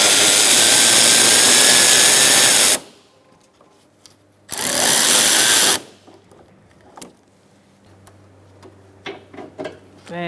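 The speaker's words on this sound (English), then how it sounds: "using a 13 millimeter as well. I'm using a swivel socket so I can get in there." A power tool runs in two loud bursts of a few seconds each while removing a 13 mm bolt on a Ford Focus engine cooling fan assembly, followed by quieter clicks and small mechanical handling noises.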